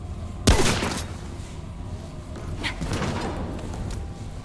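One sharp gunshot from the video game Remnant is followed by a short echoing tail and faint later pops. The shot is loud and nearby against a steady game-ambience background.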